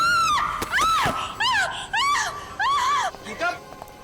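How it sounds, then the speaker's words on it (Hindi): A woman screams in a crime drama scene, several rising and falling shrieks in close succession with gasping breaths between them, loud and near. "क्यों चिल्ला रही हो?"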